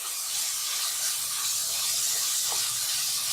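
Tomato puree and green chillies frying in a pan for a ginger chicken curry, a steady close hissing sizzle that holds at an even level throughout with no talking.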